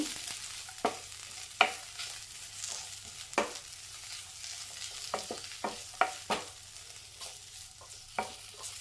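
Okra curry being stirred in a pan after coriander powder goes in: a run of distinct spoon scrapes and taps at irregular intervals over a continuous frying sizzle, close and clear, with no talking.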